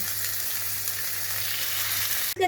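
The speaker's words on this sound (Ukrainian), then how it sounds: "буду по декілька хвилин смажити до золотистого легкого кольору з кожної сторони" Pieces of goose sizzle and fry steadily in a hot pan, a dense crackling hiss that holds constant, with a brief clunk at the very end.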